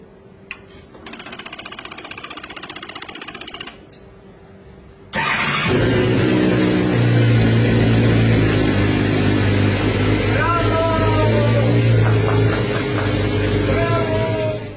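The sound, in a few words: race car engine starting and revving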